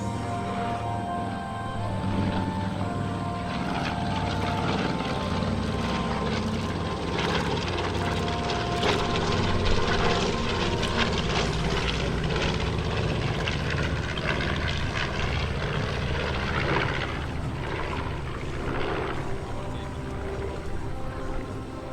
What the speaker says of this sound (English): Last pass now by Larry Kelly, Ray Stinchcomb, and Angela Needy in the B-25 Mitchell Bomber